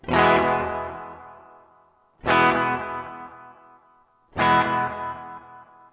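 An electric guitar played through a NuX Atlantic pedal on a 70s delay setting with reverb: three separate struck chords, each ringing out and decaying smoothly before the next, clear and alone.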